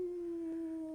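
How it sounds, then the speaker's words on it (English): Coyotes howling in one long, steady, wavering tone, fairly faint and distant against a quiet background. "coyotes"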